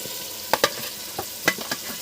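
Marinated mutton pieces are stirred in a pot with a few sharp scraping knocks over a soft sizzle, close and moderately quiet, with no talking.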